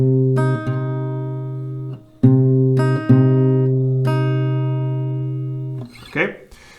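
Acoustic guitar picking a melody, single ringing notes and short phrases played close and clean, ending with a brief noisy rustle.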